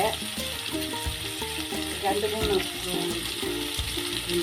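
Onions with green chilies sautéing in a pan for egg curry, a steady moderate sizzle broken by rhythmic stirring and scraping strokes.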